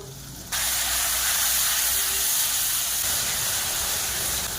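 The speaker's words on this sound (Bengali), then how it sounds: "অল্প করে জল দিয়ে মশলাকে কষে নেব।" Spice paste of ginger-garlic, chili and turmeric bursts into a loud, dense sizzle as a little water hits the hot pan, then hisses steadily and close.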